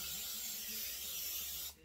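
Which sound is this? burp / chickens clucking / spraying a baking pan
spraying a baking pan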